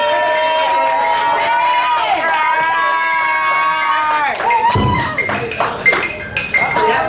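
In a comedy club, a drawn-out, wavering voice gives way to a crowd bursting into loud cheers and clapping, with uneven whoops and shouts mixed into the noisy swell.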